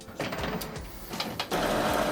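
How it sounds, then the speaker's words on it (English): An Epson WorkForce Pro WF-3820DWF inkjet printer running a nozzle check page, giving close mechanical whirring and clicking as the paper feeds, ending in a steady louder motor drone. "And then if we give the printer a minute, eventually it'll spit out a page"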